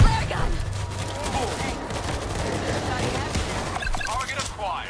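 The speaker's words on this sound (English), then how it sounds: "Somebody grab the flare gun and fire it into that goddamn swarm!" Gunfire and chaotic combat noise in World War Z as a flare gun is fired into a swarm of zombies, dense and loud throughout with overlapping shots and shouting voices.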